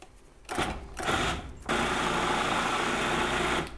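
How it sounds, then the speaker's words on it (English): Food processor pulsing a vegan meatball mixture, a loud motor whir in two short bursts followed by a longer steady run of nearly two seconds, with no talking over it. "Okay, and now we pulse."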